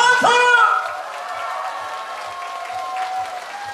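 An audience at a Korean gakseori street performance claps, a burst of applause following a short vocal shout at the start and then settling into steady clapping with chatter underneath.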